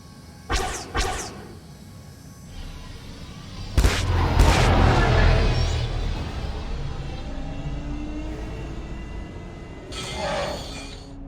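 Gunfire from an enemy ship in the Star Wars: The Old Republic game, two sharp bursts of shots near the start, then a heavy impact blast that leaves a long rumble, and another crackling volley near the end.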